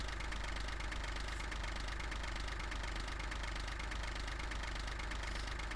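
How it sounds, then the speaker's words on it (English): A tractor engine in a farming simulator game holds a steady, loud mid-pitched idle with a knocking, vibrating rumble that runs unbroken throughout. "I don't think any other tractors have that engine note"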